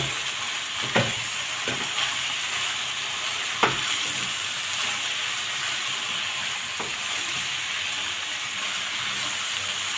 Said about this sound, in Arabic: ونقلب بقى كويس.